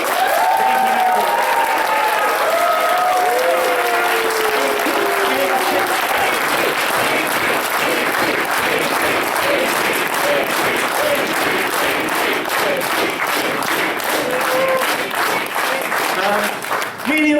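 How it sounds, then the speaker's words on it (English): A convention audience at closing ceremonies breaks into sustained, loud applause with crowd cheering, continuous and full throughout; a voice speaks over it at the start. "So how about another huge, huge round of applause."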